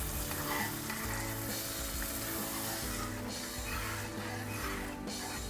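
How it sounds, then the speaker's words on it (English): Food sizzles steadily in a hot pan while it is stirred, a continuous close frying hiss with occasional scraping strokes and faint low hum beneath. "Okay, stir that up."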